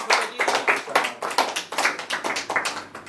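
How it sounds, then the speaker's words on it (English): Brisk clapping from a small group, sharp rapid claps continuing evenly throughout. "I think we deserve a round of applause."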